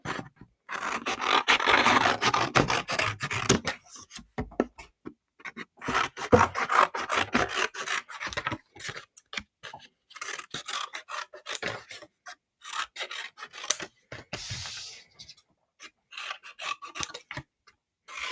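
Scissors cutting paper into strips for a homemade puzzle, a run of close, crisp snips and rasping slices in irregular bursts with short pauses between cuts.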